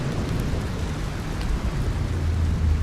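Steady rain falls in the mountain-climbing video game Cairn, a dense, even wash of broadband noise with a low rumble underneath, continuous and fairly loud with no voices.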